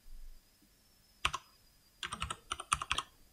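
Typing on a computer keyboard: a single keystroke, then a quick run of crisp, close clicks in an uneven rhythm, alone in a quiet room.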